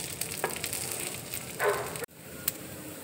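Semolina uttapam fries on a medium gas flame with a soft, continuous sizzle, a few light utensil taps and one brief scrape, then a sudden cut to quieter sizzling.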